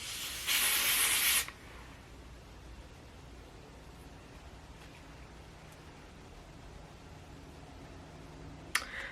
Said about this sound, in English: So I just sprayed my hair with like a bit of water